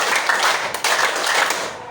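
Several hands clap together in a steady counted rhythm during a teaching practice session in a classroom, loud and close, sustained for about two seconds with a brief break in the middle.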